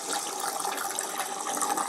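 A vacuum motor sucks in water during a torture test, making a continuous hissing, gurgling rush with bubbly flutters. It runs close and steady for about two seconds.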